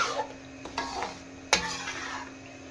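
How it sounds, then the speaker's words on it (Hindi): Panjiri being stirred in plenty of ghee in a pan, soft scraping strokes against the metal with a low sizzle underneath and one sharper clack of the spoon, close and fairly quiet. "साथ साथ हिलाते जाएंगे क्योंकि नीचे बड़ी जल्दी लग जाती है"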